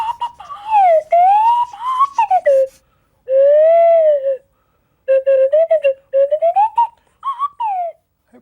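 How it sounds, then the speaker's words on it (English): A swanny whistle voices Major Clanger from The Clangers in sliding, chattering phrases that swoop up and down, played in short bursts separated by brief silences, clear and close with no other sound. "when they hear that swanny whistle, they think it's the clangers"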